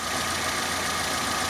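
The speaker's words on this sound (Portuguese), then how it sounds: "Enduro em funcionamento" A Ford Endura car engine idles just after a valve adjustment, giving a steady, close, even mechanical hum with a light ticking texture and no voices.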